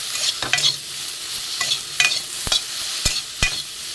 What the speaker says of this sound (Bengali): বেগুনটাকে ভালো করে ভাজবো